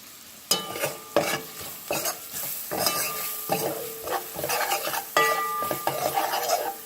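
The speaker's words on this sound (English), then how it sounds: "And you fry the curry powder up in the oil." Curry powder frying in hot oil in a pot, heard as steady sizzling broken by repeated scraping and stirring strokes of a utensil against the pan, close and fairly loud, with no talking.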